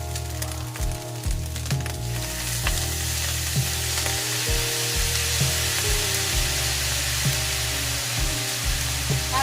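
Ground beef sizzles and fries steadily in a hot pan as light soy sauce goes in, with a continuous loud hiss and occasional stirring scrapes throughout, no voices.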